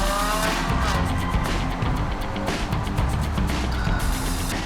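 A Ferrari sports car pulls away with its engine roaring loudly and tires squealing, the engine note rising and falling steadily throughout.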